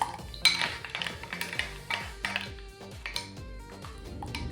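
A metal spoon stirring and clinking against a bowl as buttermilk is mixed with chili, curry leaves and salt, with repeated close chinks and scrapes in an uneven rhythm, quiet and without talk.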